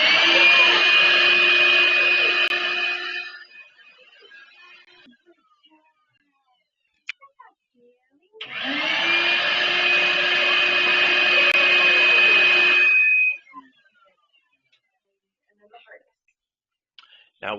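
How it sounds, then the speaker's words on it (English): A vacuum cleaner whirs loudly during a dog grooming class, running about three seconds, stopping, then switching on again for roughly five seconds, with faint clicks and brief quiet gaps between. "Now we turn on the vacuum."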